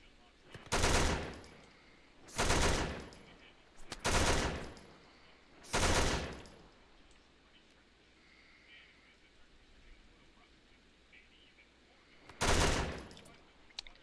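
Gunfire in a factory-building video game comes in five loud, separate bursts of rapid automatic fire, each lasting about a second, over a low hum.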